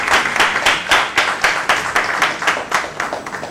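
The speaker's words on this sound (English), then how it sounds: "Ladies and gentlemen, please give a round of applause to Koral Dasgupta." Rhythmic audience applause at a literary event, falling into a synchronized beat of roughly three claps per second, with each clap peak standing out distinctly over the room.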